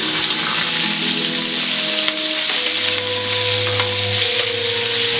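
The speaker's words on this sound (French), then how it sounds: "L'agneau rissole" Cubes of lamb sear in smoking-hot vegetable oil, a loud, dense, steady sizzle with crackle filling the whole clip, overlaid by faint tonal hums from the kitchen.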